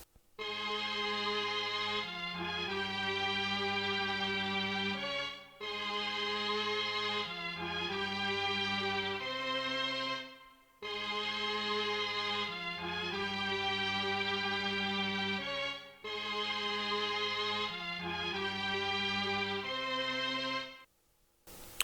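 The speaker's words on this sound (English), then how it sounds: "I then decided to add another string layer from Decent Sampler." Layered sampled strings from a String Session preset in Decent Sampler play slow sustained chords in long phrases with short pauses between, smooth and full, fairly soft with no voices.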